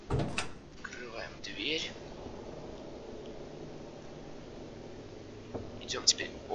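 A door opens in the horror game Evil Nun with a soft sliding scrape among a few quiet clicks and thuds, while someone whispers nearby.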